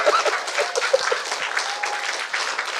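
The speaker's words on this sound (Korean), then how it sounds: "지금 박수 쳤습니다" A church congregation applauds during a Korean Sunday worship service, a steady, dense patter of many hands clapping that carries evenly without pause.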